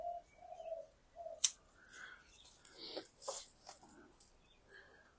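Scissors trimming branches on a young bonsai maple, several crisp snips spaced irregularly, close and fairly quiet, with soft bird cooing in the background.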